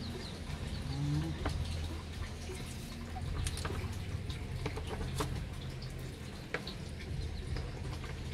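A chicken clucks softly in a quiet farmyard. Scattered short clucks and ticks sound near but faint over a low background hum, and no one speaks.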